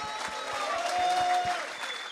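Applause from a small audience at a karting series presentation, steady mixed clapping with a tonal hum running through it and a voice briefly heard underneath.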